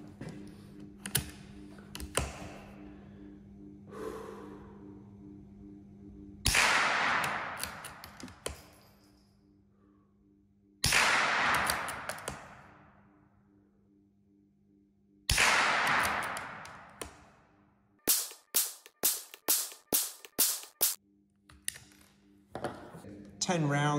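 Suppressed CZ457 rifle firing Sellier & Bellot subsonic rounds: three spaced, sharp cracks with short decays, followed by a rapid run of about eight crisp clicks, over a steady low electrical hum.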